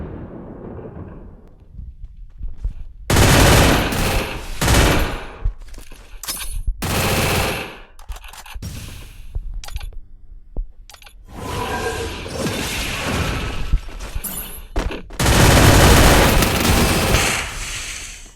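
Gunfire in the Free Fire video game: loud, close bursts of rapid automatic shots and sharp cracks, coming in clusters with brief lulls in between.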